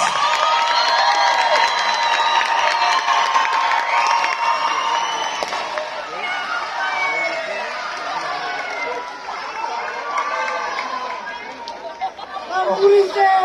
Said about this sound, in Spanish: Bien fuerte el aplauso.